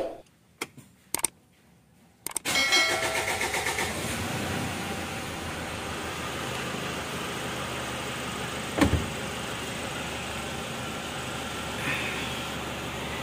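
A Mitsubishi Strada Triton pickup engine cranks with a few short bursts, then catches and settles into a steady idle, with one brief louder blip partway through.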